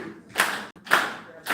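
One side of a conference audience clapping a taught beat together, three loud unison claps at a steady pace with ringing room echo, no talking.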